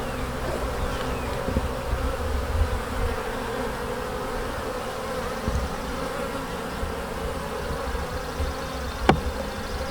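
A dense, steady buzzing of many bees around a hive frame fills the air continuously, close by, with no talking.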